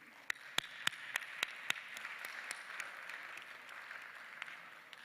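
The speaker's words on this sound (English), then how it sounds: "A huge congratulations and applaud to all the teams." Audience applause in a main hall at a design and innovation event, opening with a few loud, evenly spaced claps that swell into steady, moderately quiet clapping from a crowd.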